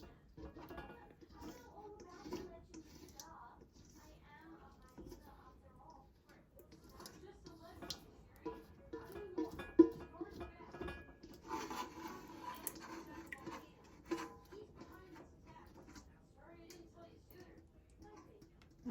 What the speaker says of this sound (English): I'm just adding everything back to my cooking pot